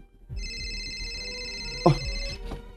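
A cellphone rings indoors with a steady electronic tone that holds for about two seconds, fairly close but moderate in volume, interrupted briefly by a soft knock before stopping.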